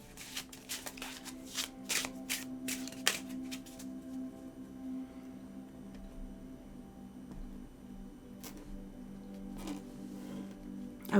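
Tarot cards are shuffled at fast-forward speed: a few seconds of quick, crisp riffling bursts, then softer, sparser handling sounds over a steady low hum. The card noise is close and moderately loud, with no talking.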